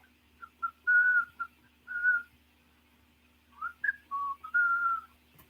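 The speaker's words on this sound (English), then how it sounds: "Anybody can figure out what song I just whistled?" A person whistles a short song tune alone, clear melodic phrases in two bursts separated by a brief pause, close and quiet background.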